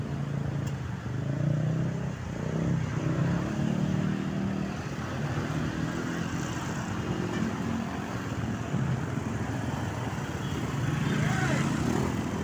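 A vehicle rolls past on a street while people cross, a steady broad rumble with low engine tones and wind buffeting, fairly close and continuous throughout.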